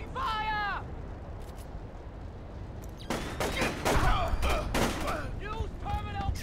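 Gunfire in the stealth video game Splinter Cell: Chaos Theory erupts in a cluster of sharp bursts after a quieter stretch, with game voices talking before and between the shots.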